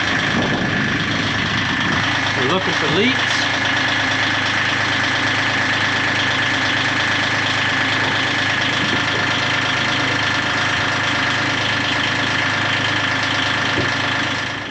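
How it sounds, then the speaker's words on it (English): A boat's starboard engine, engine number one, runs at a steady idle, a continuous mid-low drone that stays loud and close throughout, with a brief voice speaking over it early on. "Now we're gonna fire up the engines and make sure they're working."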